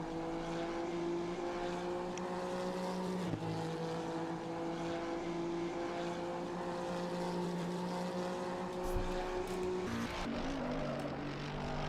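A BMW race car engine in a racing video game at Imola, a steady droning tonal hum that holds for several seconds, then shifts pitch and breaks up near the end as the car passes.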